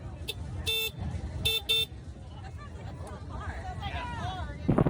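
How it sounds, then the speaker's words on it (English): Four short, bright honks from an e-bike horn that sounds like a compact car horn sound in quick pairs, while people talk in the background. "the horn, which sounds kind of like a small car horn"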